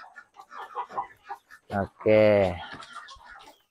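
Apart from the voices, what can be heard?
laying hen clucking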